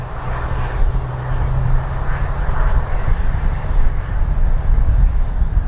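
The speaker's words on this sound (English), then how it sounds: "I really enjoy watching the drone as it does these kind of maneuvers" Fimi X8 SE camera drone flying about 50 meters out, a steady low engine-like drone with broad hiss, continuous and fairly loud, with wind or ambient noise throughout and no speech.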